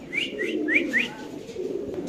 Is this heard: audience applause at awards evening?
no